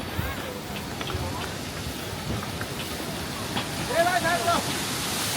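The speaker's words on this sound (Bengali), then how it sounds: "দেখো কি সুন্দর ওয়াটারফল" A waterfall along the Kedarnath pilgrimage trail, heard as a broad continuous rushing roar at some distance, steady throughout with a brief faint tonal sound near the end.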